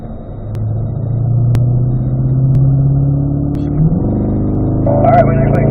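A Corvette C8 race car accelerating out of a corner on a racing circuit, its engine a loud, steady rumble that rises in pitch, heard from on board.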